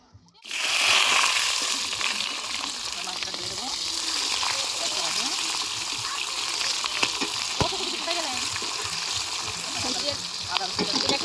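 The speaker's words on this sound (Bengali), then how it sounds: "একটু পেঁয়াজটা ভাজা হোক।" Quartered onions fry in a pan at an outdoor winter picnic, giving a loud, steady sizzle that starts abruptly and carries on with occasional stirring scrapes and faint voices in the background.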